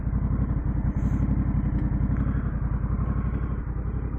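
Honda Rebel 1100 DCT motorcycle engine idling, an even, loud, low throbbing rumble heard up close with a regular pulse, and no talk.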